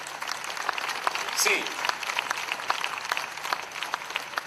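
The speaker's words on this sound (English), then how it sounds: "Should we all give a big clap to these gentlemen?" An audience at a live event in Goa breaks into sustained applause, dense crackling claps continuing for several seconds with a brief voice rising over them.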